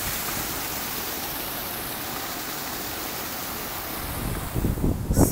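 Steady broadband rush of a waterfall at Sapphire Falls Resort, heard close at the bottom of the falls, a continuous wash of falling water that swells with louder splashing bursts near the end.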